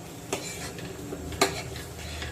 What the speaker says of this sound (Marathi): डाळ लगेच फोडणीमध्ये मिक्स करून घ्यायची आहे